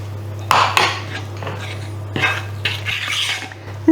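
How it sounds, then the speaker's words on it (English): A spoon scrapes and clinks against a bowl while lemon icing made from icing sugar and lemon juice is stirred, with a few sharp knocks and rasping strokes over a steady low hum. "stir it until most of the lumps have gone"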